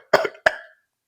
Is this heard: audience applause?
no